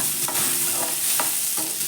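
Onion, tomato and garlic frying in a pan for avarakottai kuzhambu, a steady close sizzle broken by three or four sharp stirring scrapes.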